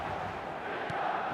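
Stadium crowd noise from the eFootball 2026 video game, a steady broad roar of a packed match-day crowd with no clear peaks, continuous and moderately loud throughout.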